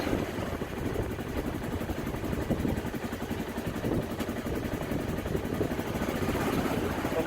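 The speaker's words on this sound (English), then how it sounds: "We're in four-wheel drive, put it in reverse, gradually give the vehicle some gas." A UTV engine in four-wheel drive reverses slowly off a trailer during unloading, making a steady mid-pitched throbbing idle that rises only slightly as gas is gradually applied, heard close and without talk.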